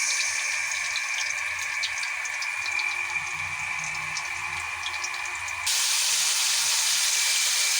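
Onion, black pepper, ginger and garlic sauté in a hot pan with a steady sizzling hiss that continues the whole time and grows brighter near the end, with no one speaking.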